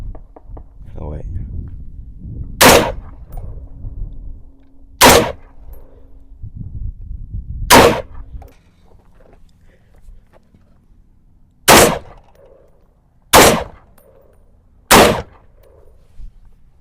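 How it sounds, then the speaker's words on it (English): A hunting rifle mounted on a tripod fires six sharp, loud shots at uneven intervals, each one a hard crack over a quiet outdoor background, with talking heard between the earlier shots. "Okay, we're gonna shoot."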